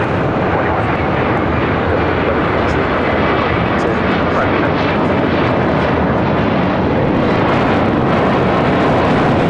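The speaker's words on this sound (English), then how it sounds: "we got the Fort Lauderdale flight, JetBlue A321, now taking off on 25 right." A JetBlue Airbus A321 jet takes off from runway 25 right at LAX, bound for Fort Lauderdale, filling the clip with a loud, continuous, broad engine roar that stays strong throughout.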